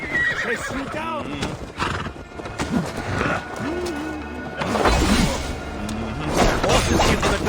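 Horses in the video game Assassin's Creed Valhalla gallop with steady clip-clopping hooves and repeated loud neighs and whinnies, amid crashing and clashing noises while characters speak over the action.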